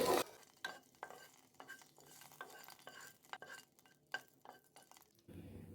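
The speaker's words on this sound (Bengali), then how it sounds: "দিয়ে দিচ্ছি 2টো তেজপাতা, 2 টুকরো দারুচিনি, 2টো এলাচ আর 2টো লবঙ্গ। হালকা ফ্রাই করে নিচ্ছি।" Bay leaves, cinnamon pieces, cardamom and cloves fry lightly in oil, giving a quiet sizzle under repeated scraping and tapping stirs of a utensil against the pan, with a brief louder burst at the start and a change near the end.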